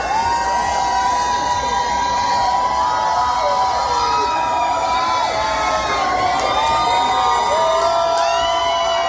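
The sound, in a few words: crowd cheering and whooping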